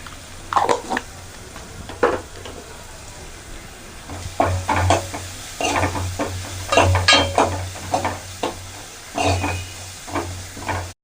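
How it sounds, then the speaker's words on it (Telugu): Spices and turmeric frying in a pan for Andhra-style rasam, a close sizzle broken by repeated stirring scrapes and clinks against the pan, with a low hum underneath. "ఇది పచ్చి వాసన పోయే వరకు ఫ్రై చేసుకోవాలి."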